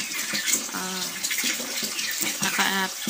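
Water flowing from a raised hose, a continuous splashing rush with bubbling texture, steady and fairly close throughout.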